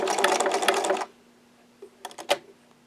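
A sewing machine stitches the bottom bar tack of a buttonhole on button work for a French mattress bench, a dense run of rapid needle clatter for about a second, then stopping, followed by a few faint clicks.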